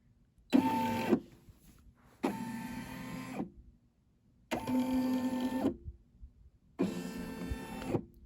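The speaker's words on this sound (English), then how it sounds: "sewing machine set up for embroidery and to get this stitching while I start cutting" Embroidery sewing machine stitching a logo, four bursts of rapid mechanical whirring and buzzing, each about a second long, separated by short quiet pauses, moderately close with no talk.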